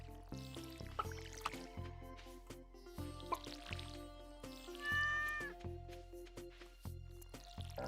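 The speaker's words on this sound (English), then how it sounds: "I heard the kitty cat." Cartoonish cat meows sound in Stardew Valley, faint and brief over the game's steady music, with no talking.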